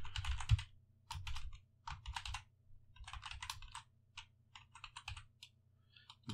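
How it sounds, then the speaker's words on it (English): A password is tapped out on a computer keyboard in quick, uneven bursts of light key clicks with short pauses between groups, close and fairly quiet, with no voices. "You can actually type in a password."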